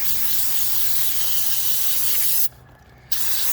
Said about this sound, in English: We're gonna spray some more.